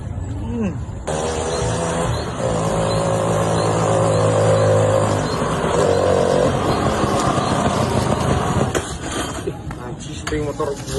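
A faulty, stalling motorbike engine revs and drones steadily for several seconds, loud and close, with people talking over it.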